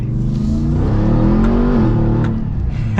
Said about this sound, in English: So much quieter than my truck because I got the exhaust, but it's such a good sound still.